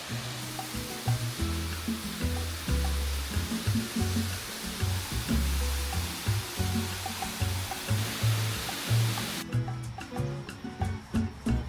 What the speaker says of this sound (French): J'arrive à la première cascade, la cascada, la escalera.